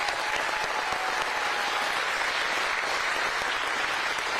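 A crowd gives the legislative delegates a last round of applause at Governor Youngkin's bill signing in Roanoke, a loud, dense, continuous clapping that holds steady throughout.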